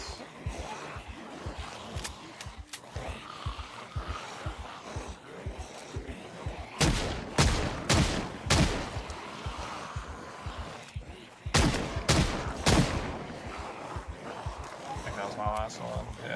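A gun firing in the video game Project Zomboid, several loud separate shots in two clusters over a steady background of thumping footsteps and game noise.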